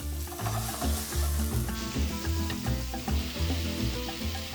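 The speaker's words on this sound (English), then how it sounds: "Got the sizzle." Steady sizzling and crackling of fish frying in a pan, with low rumbling and occasional stirring noises.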